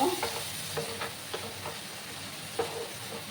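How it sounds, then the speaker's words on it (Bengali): Potatoes and tomatoes sauté in a pan with a low steady sizzle, broken by a few soft scraping stirs of a spatula, fairly quiet and close with no talking. "আলুর সাথে টমেটোটাকে ভালো করে আমি কষিয়ে নেব"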